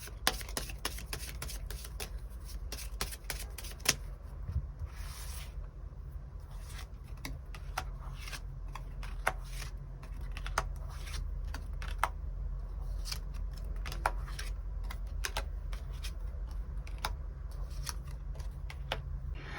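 Tarot cards drawn and laid out one by one for a weekly reading: soft, close slaps and slides of card stock, repeated at an irregular pace over a low steady hum, with no talking.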